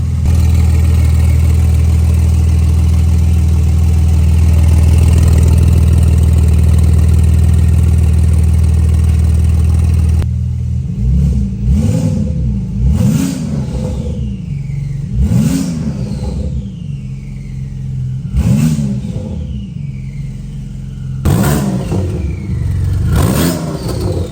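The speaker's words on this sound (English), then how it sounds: "the car sounds amazing. Obviously, it's aftermarket exhaust." A steady loud engine drone gives way to a series of sharp revs, each climbing and falling, with a deep raspy exhaust tone close up, from a turbocharged Porsche 911 991.2 GT2 RS with an aftermarket exhaust.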